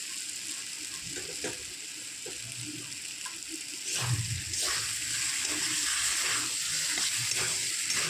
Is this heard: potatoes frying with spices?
yes